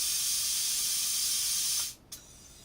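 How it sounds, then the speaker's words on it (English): Booster pump piston for a Zeus air rifle forcing air into the rifle's tube, a steady loud hiss of rushing air that runs for nearly two seconds, then cuts off abruptly with one brief faint puff after. "So what you're hearing is the piston goes forwards,"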